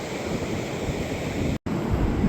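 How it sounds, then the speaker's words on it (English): Strong wind blows steadily across an Oregon coast beach in the afternoon, kicking up sand, and roars into the microphone as a constant loud rush with surf mixed in. The noise cuts out for a moment partway through. "Wind has picked up again."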